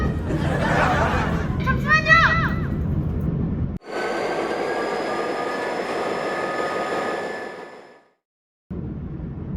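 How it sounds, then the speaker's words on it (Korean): A train pulls away with rumbling, rattling noise and high wheel squeals, while voices chatter at the start. The rumble fades out into a brief silence before the noise returns. "열차 출발한다."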